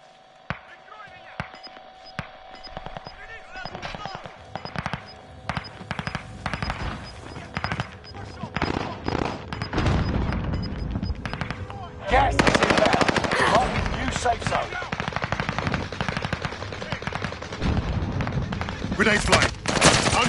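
Call of Duty gunfire, starting with scattered single shots and building into dense, loud machine-gun bursts and sustained volleys, with game voices and players talking.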